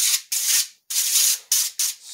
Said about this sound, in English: spray the aluminum foil just a little bit